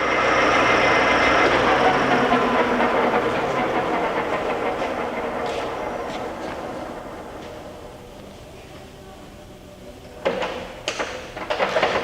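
A Lagun FVA-5LA geared-head milling machine with a 50-taper spindle runs with a steady broadband whir that slowly winds down, followed by a few short jog bursts near the end.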